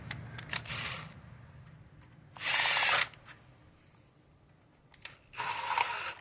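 Power tool tightening bolts on a Ford 4.6L engine during rear main seal replacement, three short whirring bursts separated by quiet gaps filled with faint clinks and handling noise.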